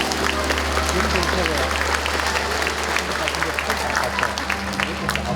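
Audience applause at a community talk concert in Uljin, dense and steady throughout, with voices and crowd noise mixed in beneath it.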